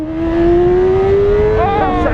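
A 230 hp BMW S1000RR HP superbike screams as its engine revs past 10,000 rpm, a loud, close, steadily climbing howl that breaks into a sharp rising-and-falling warble near the end.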